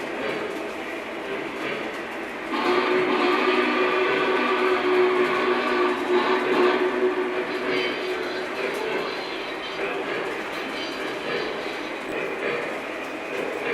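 Big Boy model train locomotive running on a layout, a steady close rolling rumble and rattle of wheels on track that picks up after a couple of seconds and continues, with talk over it.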